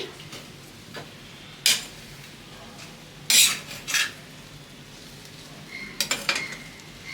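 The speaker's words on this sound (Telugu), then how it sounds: "ఇప్పుడు నిమ్మకాయ వేస్తాను కాబట్టి నేనైతే ఒకసారి కలుపుకుంటున్నాను" Poha with lemon juice is stirred in a pan, a spoon scraping and clinking against the metal in a few sharp bursts with quiet pauses between, close up, with no talking.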